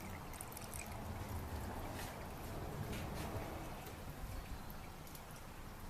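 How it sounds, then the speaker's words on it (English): Coolant poured into a car radiator during a flush and coolant change, a faint steady liquid pour with soft trickling and splashing, continuous throughout. "So we're just pouring all of that in."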